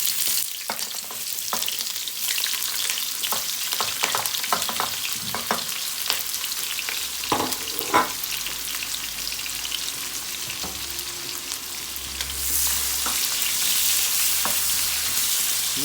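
Chopped onions fry in hot oil in an overheated kadai: a dense, close sizzle full of sharp crackles and pops, swelling into a louder, fuller hiss toward the end, with no one speaking.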